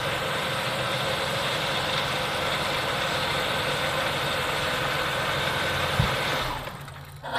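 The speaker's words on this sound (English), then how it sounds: "Okay, vehicle still running, sensor unplugged." A 1990 Buick Reatta 3.8L V6 idles with its mass airflow sensor unplugged, a steady close, loud engine drone that holds for several seconds before sagging and faltering near the end as if about to stall.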